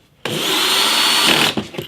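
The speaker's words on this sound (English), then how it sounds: "screwing back these self-tappers into plastic, set your drill to the lowest torque setting" A drill at low torque drives a self-tapping screw into a plastic bass guitar back panel, giving one loud, steady whir of about a second and a quarter, then a few short bursts as the screw seats.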